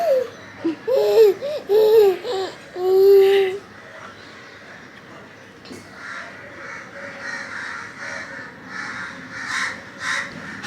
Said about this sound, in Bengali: ডাকছে কাকটা